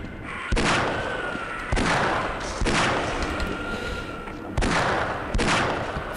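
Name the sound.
gunshots in video game Half-Life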